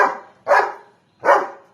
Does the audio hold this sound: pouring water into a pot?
no